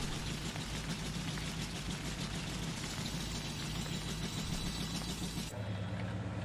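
Truck engine idling in a farming video game, a steady low drone with a constant hum that runs without a break, then drops to a quieter, thinner tone near the end.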